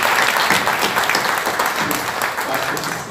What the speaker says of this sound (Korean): 우리 경배 박수 한 번 더 하시죠.